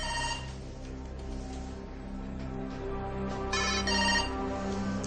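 Telephone ringtone in a French salon setting, a repeating electronic melody ringing steadily and fairly loud for several seconds, no talk over it.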